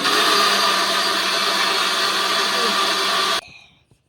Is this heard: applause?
no